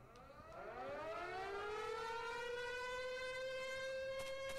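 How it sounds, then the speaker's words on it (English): In the VR shooter Crime Cracker, a civil-defense-style siren winds up from a low growl into a loud, steady wail that holds to the end, heard alone without speech. "That siren, is it really necessary?"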